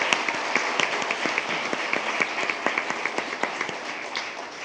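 An audience at a school board meeting claps for student scholars in steady, brisk applause, dense overlapping hand claps from a moderately sized crowd filling the room throughout.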